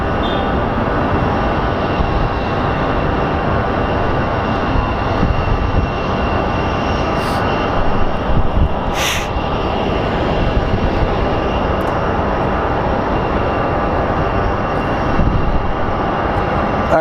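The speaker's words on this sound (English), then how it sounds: "we're going to get departure American Airlines 2333 going to Newark. It's an Airbus" An American Airlines Airbus A321 departing Phoenix Sky Harbor for Newark, a loud steady jet engine roar that holds broadband and constant throughout, with no talk over it.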